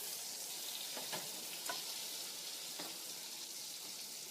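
Cherry tomatoes blister in butter in a pan, a steady hissing sizzle with scattered sharp pops and sputters throughout, fairly close and alone without speech.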